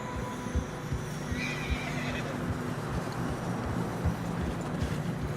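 Horses snort and whinny over a steady low rumble, with heavy hooves plodding irregularly through deep fresh snow, in the video game Red Dead Redemption 2.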